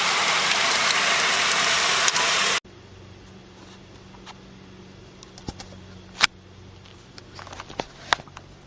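Rain pours as a loud, dense wash that cuts off abruptly. Quieter scattered drips and faint patter follow.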